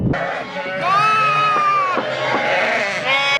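Sheep given to earthquake-affected livestock farmers bleat loudly and close by, with several overlapping drawn-out calls from a flock and lambs, while a human voice is faintly heard in the background.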